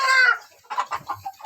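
Chickens, native Indonesian kampung and KUB breeds, cluck in a short series of close, clipped calls after a brief louder squawk, with no talking.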